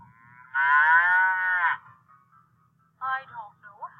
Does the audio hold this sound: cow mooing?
yes